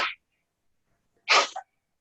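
A single sharp sneeze bursts out close by after a brief exhale, an explosive burst lasting about a third of a second with a short trailing tail, otherwise silence.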